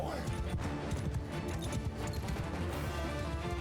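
Galloping horse hooves of charging cavalry in a medieval battle game, a dense rumbling clatter of many hooves with crashing battle noise, steady and loud throughout.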